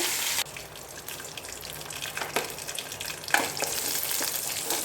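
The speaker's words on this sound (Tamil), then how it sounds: "கொஞ்சமாக கடுகு உளுந்து போட்டு தாளிச்சிக்கலாம் ரெண்டு ரெண்டு வரமிளகா ஒரு பத்து பதினஞ்சு முந்திரி பருப்பு கொஞ்சமாக கருவேப்பிலை எல்லாம் போட்டு தாளிச்சு விட்டுருங்க" Mustard seeds, urad dal, dried red chilies, cashews and curry leaves temper in hot oil, a loud, close, steady sizzle with bursts of crackling and spattering.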